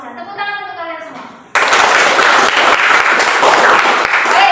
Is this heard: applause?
yes